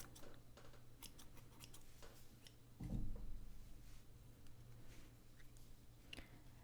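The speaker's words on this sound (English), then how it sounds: "you can go ahead and cut off the orange yarn because we are now finished with that" Scissors snip through orange yarn in one short, soft close cut amid quiet handling noise, with no talk.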